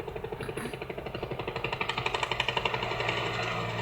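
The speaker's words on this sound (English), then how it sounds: "It's a loud engine." A loud, rapid rotor-like chopping helicopter engine sound, steady and close, with rhythmic pulses building slightly in intensity and no voices.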